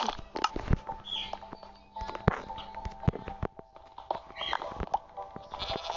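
Goats bleat several times in a video game amid clicks, thuds and scattered game effects, the calls thin and nasal, heard at moderate volume.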